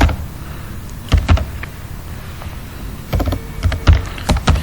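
Close computer keyboard typing comes in short bursts of clicking keystrokes separated by quiet pauses, as words are entered into a table.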